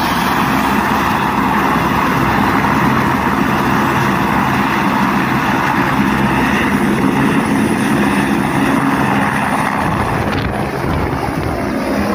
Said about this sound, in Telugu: హై స్కూల్ ఆవరణంలో హెలికాప్టర్ ల్యాండింగ్ అవడంతో